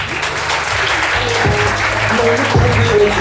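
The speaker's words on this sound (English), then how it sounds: "Just clap for the Saksham Surkrev." A seminar audience claps for a winner in a loud, sustained burst of applause with a few sharper claps, and no voice is heard.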